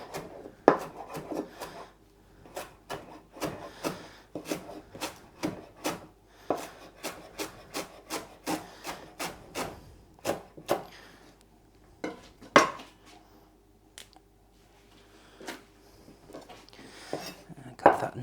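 A kitchen knife taps repeatedly against a wooden cutting board while finely chopping parsley for couscous, a steady run of sharp knocks with short pauses, close and fairly quiet.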